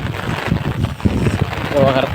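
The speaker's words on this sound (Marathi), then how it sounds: "वारा आहे वारा जाम आहे" Strong wind gusting outdoors in the rainy Konkan countryside, buffeting the microphone as a steady loud rumble under a voice talking throughout.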